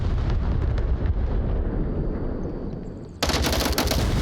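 Gunfire in the VR shooter Onward during a tournament match, dense loud rapid bursts rattling close by, fading briefly before a sharp fresh volley cuts back in.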